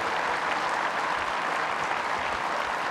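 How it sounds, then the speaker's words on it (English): A talk-show studio audience gives a dense, continuous round of applause for the guests, loud and even throughout with no pauses. "Folks, please, one more round of applause for all of our guests."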